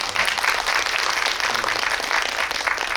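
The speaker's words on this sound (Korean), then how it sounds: "축하의 박수 한번 드리겠습니다." Moviegoers in a cinema hall at a guest visit screening clap in congratulation, a full, continuous burst of crowd applause holding steady and fairly loud throughout.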